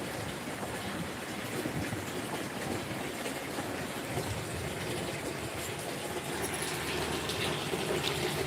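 Water rushes steadily from a supply into containers being filled, a continuous broadband gushing that holds at an even level for the whole stretch with no voices.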